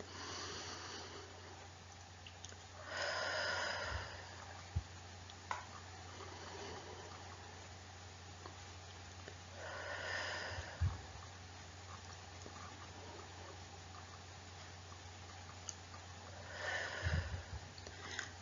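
Three slow, deep breaths taken during a guided relaxation session, each a soft, close, airy inhale-exhale separated by several seconds of quiet.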